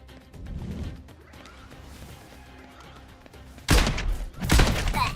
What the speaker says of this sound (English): did I just shoot into the ground?